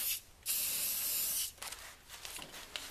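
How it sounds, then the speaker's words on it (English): Aerosol spray can sprays a coating onto a running board being installed on an Arctic Cat ProClimb snowmobile, a close, sharp hiss in two bursts of about one second each, followed by quieter rustling. "And we're going to just spray this."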